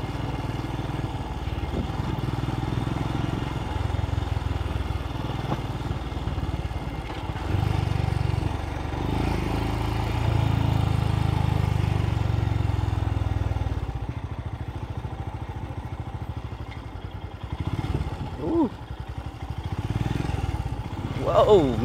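A Royal Enfield Scram 411 motorcycle rides along a rough path, its engine droning steadily at a low pitch for the whole stretch, rising slightly in places, with wind and people talking over it.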